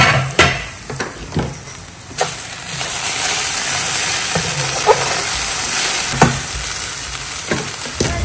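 A dish fries on a stove with a loud, close, continuous sizzle, punctuated by several sharp utensil knocks and scrapes against the pan, with no one talking.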